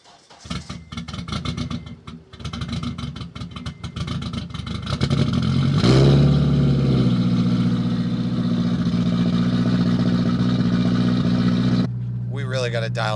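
Cold start of a Mitsubishi Evo engine: cranking chatter, then the engine catching with a loud rising roar that settles into a rough, steady high idle, with someone speaking over it.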